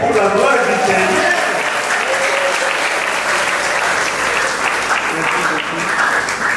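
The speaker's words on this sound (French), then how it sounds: "On peut acclamer pour la gloire du Seigneur." A church congregation applauding during worship, sustained loud clapping from a large crowd that keeps an even level the whole time, with voices mixed in underneath.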